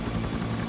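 Aircraft taxiing in the military video game Arma, a steady low engine drone with a buzzing, faintly pulsing propeller hum, brief and unchanging.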